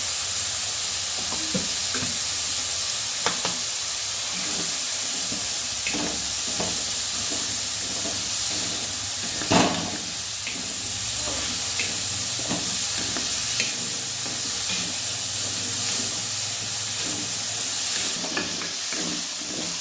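Potato pieces roast in a little oil in a kadhai for a sprouted matki and potato usal, making a steady, close, continuous sizzle broken by occasional stirring scrapes.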